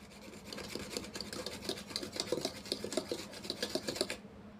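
Palm juice cake batter whisked by hand until foamy, a steady scraping and rubbing rhythm of whisk strokes against the bowl, close and continuous for about four seconds before stopping.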